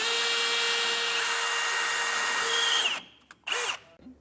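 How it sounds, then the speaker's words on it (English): A power drill bores a hole through the steel frame rail of a pickup truck while a fifth-wheel hitch is being fitted, a loud steady whine rising in pitch, then stopping with a short final burst. "So we just drilled that hole down on the frame rail on our driver's side."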